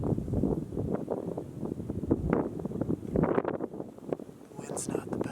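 Wind gusts steadily across an open bean field at dusk, a rough, blustery rush buffeting the microphone throughout, with rustling and faint murmured speech underneath.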